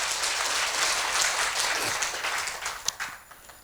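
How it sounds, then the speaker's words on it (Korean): Seminar audience bursts into dense, loud applause that holds steady and then thins out and fades toward the end. "박수 한번 보내주세요"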